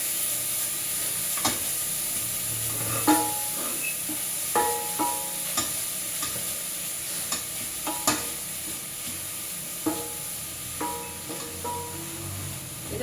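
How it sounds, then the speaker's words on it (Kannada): Grated carrot frying in ghee for carrot halwa, a steady close sizzle punctuated by repeated scraping stirs of a spoon against the pan at irregular intervals; no talk. "ತುಪ್ಪದಲ್ಲೆಲ್ಲ ಚೆನ್ನಾಗಿ ಫ್ರೈ ಆಗ್ಬೇಕಿದು."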